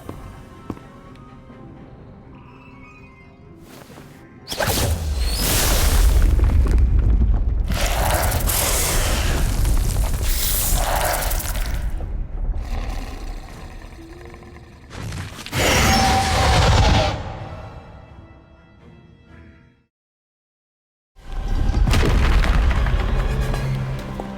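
Statues blown apart in the Harry Potter: Magic Awakened game: a series of heavy, loud booms with rumbling debris, separated by brief quiet gaps, including one near-silent pause before a final blast.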